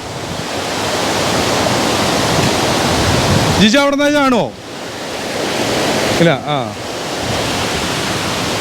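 Loud, continuous roar of a waterfall fills the scene, with two brief bursts of people talking cutting through it.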